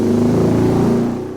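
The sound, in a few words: Honda Monkey Kitaco 145 engine revving on dyno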